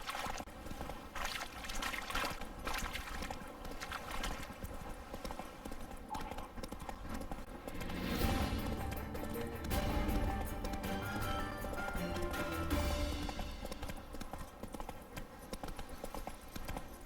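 Roach, the horse in The Witcher 3, galloping with a fast, steady clip-clop of hooves that swells louder midway, over a continuous game soundscape.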